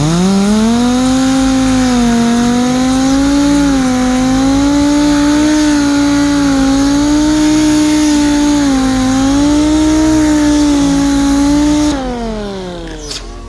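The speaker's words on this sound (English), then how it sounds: "And that's what the grinder does, right like that." Dual action sander locked into grinder mode, grinding bare metal on a 1970 Chevelle body panel: a loud, steady high-pitched motor whine with slight pitch wavering, running alone and then winding down at the end.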